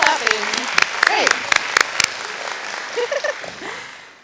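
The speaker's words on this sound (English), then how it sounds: "Lots of clapping." An audience claps at a nursing pinning ceremony, scattered individual claps ringing out close by while a voice speaks over them.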